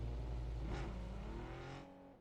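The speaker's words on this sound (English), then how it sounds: "That car just stopped like right there in front of me." A car in the PUBG video game drives close by, its steady engine drone holding with two brief swells of revving before tapering off as it comes to a stop.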